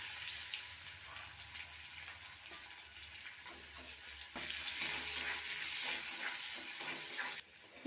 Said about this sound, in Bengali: তেলটা গরম হয়ে গেছে। এবার দিয়ে দেবো 5 ফোড়ন, শুকনো লঙ্কা, তেজপাতা।